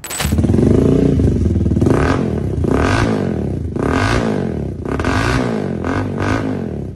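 A 250cc single-cylinder Kawasaki Ninja replica motorcycle engine revs loudly and close, surging and falling in repeated throttle blips over a continuous rumbling idle.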